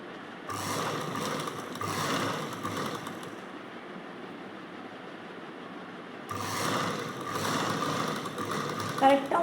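A sewing machine runs in two sustained bursts stitching a saree corner with orange thread, a steady close mechanical whir separated by a quieter pause, with a few light clicks at the end.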